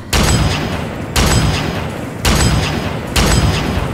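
Gauss rifle firing in the video game Fallout 3, four loud abrupt blasts spaced about a second apart, each with a sharp attack and a sustained decaying boom, no voices over them.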